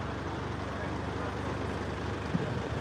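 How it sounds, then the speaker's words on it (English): A steady, low diesel engine rumble idles throughout at close range, constant and even, with a faint brief knock near the end. "Your diesel engine's super loud."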